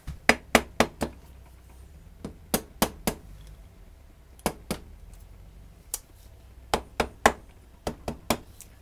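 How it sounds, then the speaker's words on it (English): A mallet taps a Honda XL250 motorcycle cylinder head with a big bore kit down onto its dowels, sharp close knocks in quick clusters of three or four separated by short pauses. "I'll just use the mallet again just to make sure that's down on the dowels."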